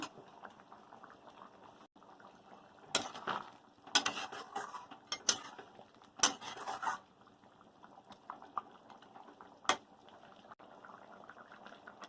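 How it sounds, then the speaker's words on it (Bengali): Fried fish pieces go into a simmering cauliflower and potato curry in a home kitchen, bringing a few sharp clatters and splashy bursts over a low, steady bubbling. "ভেজে রাখা মাছগুলো দিয়ে দেবো ঝোলের মধ্যে"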